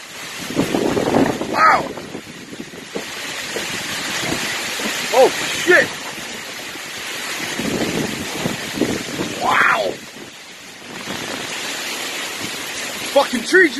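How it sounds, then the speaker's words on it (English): Strong gusting wind from a microburst storm roars steadily across the whole stretch, buffeting the microphone, while excited voices shout and talk over it. "That wind, though."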